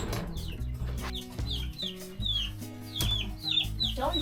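Several chickens cluck and squawk inside a coop, with repeated sharp calls over a low rustling background and no talking.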